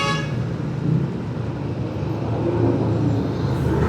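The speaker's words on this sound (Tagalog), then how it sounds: "Grabing traffic, oh." Heavy road traffic near the MRT 7 route toward Caloocan, a steady loud rumble of engines with short car horn toots breaking through, close by and continuous for a few seconds.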